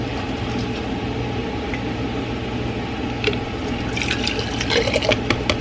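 Mushroom soup is ladled into glass canning jars with soft wet pours and liquid splashes, growing busier toward the end, close and fairly quiet over a steady background hum.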